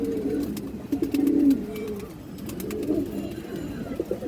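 Domestic pigeons kept for flight racing coo continuously at close range, soft low rolling calls overlapping in a steady murmur with a few brief louder swells.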